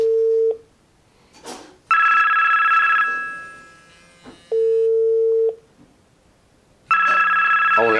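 A Hosmart two-way duplex wireless intercom ringing loud and close, a repeating electronic ring tone in bursts of about a second with pauses, a brief handling clatter between rings.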